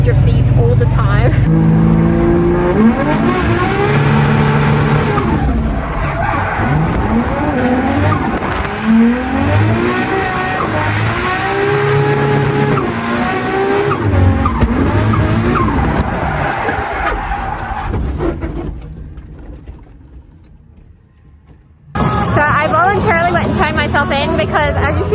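Car drifting on a track on soft, grippy tires, engine revving hard while the tires squeal and skid continuously for about eighteen seconds, then the noise fades briefly before loud revving and squealing resume; a voice talks over it.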